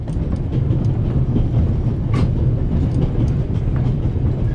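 A train runs along rails in The Raven video game, giving a steady, loud rumbling roar with faint clickety-clack and brief metallic squeaks, and no voices.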